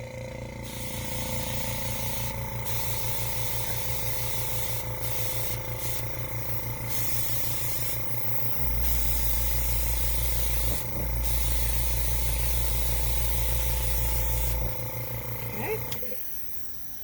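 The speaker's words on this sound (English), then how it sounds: "I'm just going to use the Copic airbrush system" A Copic airbrush sprays ink in a steady hiss, with a low motor hum underneath and a louder compressor drone kicking in partway through.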